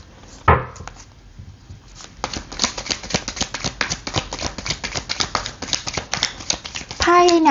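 Tarot cards shuffled by hand in a fortune-reading session: a sharp flick, a short pause, then a steady run of rapid, close papery riffles and snaps, with a brief voice-like tone near the end.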